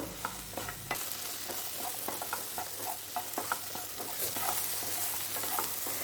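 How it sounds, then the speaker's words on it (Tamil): Okra sautéing in oil in a pan on low flame while being stirred, with a steady sizzle under repeated scraping and stirring clicks close up, no talk. "வெண்டைக்காவை இந்த எண்ணெயில் 2 நிமிஷம் நல்லா வதக்கி எடுத்துக்கலாம்"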